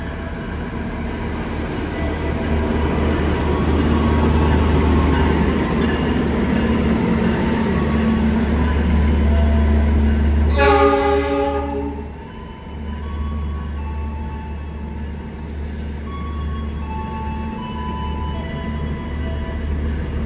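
Lodaya passenger train from Solo Balapan to Bandung passing through a station, a loud, steady rumble of rolling wagons close by, with a brief tonal horn or brake whine partway through and a continuing low roar after.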